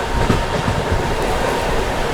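The Patna Amrit Bharat Express rolls through Aligarh Junction with a loud, steady rumble and rhythmic clickety-clack of wheels over rail joints, heard close from inside the train.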